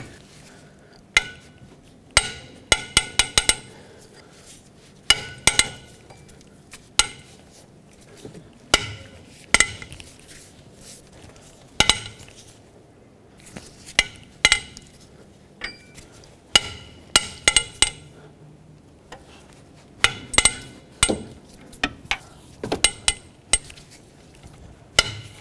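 Long ratchet breaking head bolts free on a 5.4L two-valve Ford F-150 engine, a series of sharp metallic clicks and cracks in irregular bursts over a quiet background.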